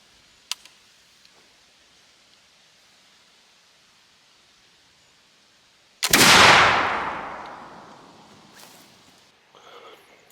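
A flintlock muzzleloader fires a load of number 6 lead shot over a nitro card, cushion wad and overshot card: one loud, close boom with a long decaying rumble, after faint clicks, then light handling noise.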